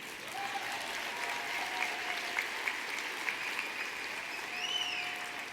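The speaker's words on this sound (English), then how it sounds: "can you clap for this one?" Audience applause at the eClinicalWorks NUC 2013 conference, a steady smattering of hand claps heard from a distance that carries on for several seconds with a thin tonal whine underneath.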